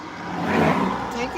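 A car passes on a south side Englewood, Chicago street, a brief swell of road and engine noise that rises and fades within a second or so, with a voice talking over it.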